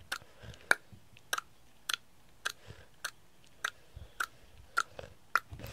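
A person makes loud tongue clicks, a series of about ten sharp, crisp ticks at a fairly even pace of roughly one every half second, close up with no talking.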